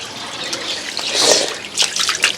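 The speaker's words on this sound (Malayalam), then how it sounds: "നമ്മൾ പൈപ്പ് ഇവിടെ തുറന്ന് വെച്ചിട്ടുണ്ട്" Water runs from an open pipe into a fish tank, a steady close splashing trickle with brighter bursts of pouring, with no talking over it.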